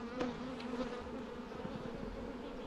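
Honey bees buzz steadily at an open hive during an inspection, a dense close drone with a few sharper passes near the microphone and no talking.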